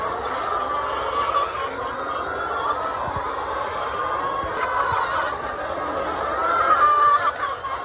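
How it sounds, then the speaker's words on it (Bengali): Laying hens clucking continuously in a poultry setting, a steady close chorus of overlapping calls that builds slightly louder toward the end, with no talking. "এই মুরগিগুলো ঠোকরাঠুকির ফলে অবস্থা খারাপ হয়ে গেছিলো, আমি খাঁচা থেকে বের করেছি"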